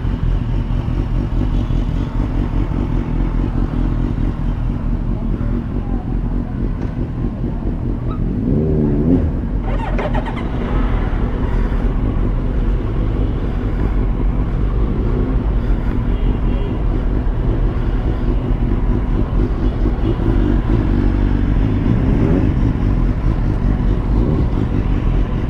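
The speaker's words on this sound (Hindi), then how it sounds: "ये BMW XR वाले ने भी चालू कर दिया है अपनी बाइक" A BMW XR motorcycle running after being started, on a wet monsoon day in Mumbai. A continuous, close engine rumble carries on throughout, with brief bursts of throttle and background clatter.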